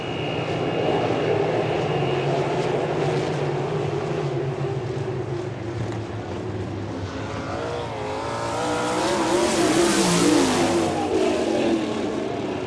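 Sprint race cars crossing the finish at Port Royal Speedway, Pennsylvania, during an All Star Circuit of Champions race, loud roaring engines that swell and rise in pitch as cars sweep past near the line.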